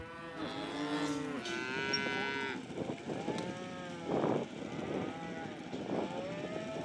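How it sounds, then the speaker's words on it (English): Cattle moo repeatedly, several loud drawn-out calls overlapping from a few animals nearby as they are rounded into an enclosure in the remote Australian outback, with no talking. "the ringers are rounding the cattle from different directions and onto the enclosure"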